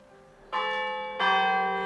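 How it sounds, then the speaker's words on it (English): A church bell rings at a distance, two resonant strikes about two-thirds of a second apart, each leaving a long shimmering hum that slowly fades, with no other sound around it. "We see the bell in the church in the distance, ringing its bells"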